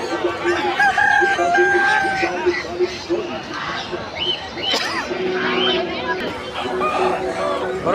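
Roosters and hens at a crowded poultry and bird market in Tongi, several crowing calls and clucks over a dense bed of chatter and market noise, with people talking nearby throughout.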